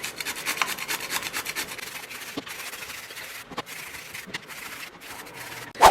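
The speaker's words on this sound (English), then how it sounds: "I am gonna go ahead and grate up the entire zucchini" A fresh zucchini is grated on a hand grater, giving a rapid run of rhythmic rasping strokes that stay close and steady, then a louder clunk at the end.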